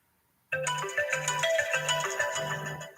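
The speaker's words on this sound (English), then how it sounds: "I have to answer this phone." A phone ringtone starts abruptly and plays a repeating melodic ring pattern for several seconds, loud and close, with no talk over it.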